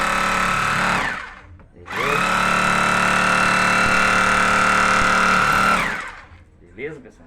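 A Bosch GBH 2-24D rotary hammer fitted with a drill bit runs in two bursts, a short one and then a long steady hammering drone of about four seconds, loud and close, followed by faint handling noise.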